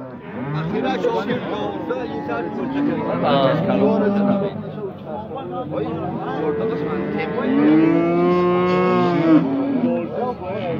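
Cattle low and moo repeatedly at a livestock market in Isfara, the long calls loud and close, overlapping with someone talking throughout.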